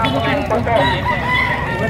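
A pumpkin gamefowl rooster crows amid a busy, noisy poultry fair setting, with other birds and voices in the background.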